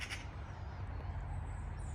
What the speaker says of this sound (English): It's the magpies.